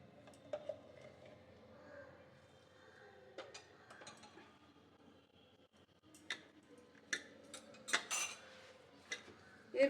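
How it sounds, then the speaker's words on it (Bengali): Hands mixing dry ingredients, flour with salt, ajwain and ghee, for koraisutir khasta kochuri dough: quiet scattered clinks and soft rubbing, with a few sharper taps of utensils against a bowl, growing busier toward the end. "এরপরে শুকনো উপকরণগুলো একসঙ্গে ভালো করে মেখে নেব"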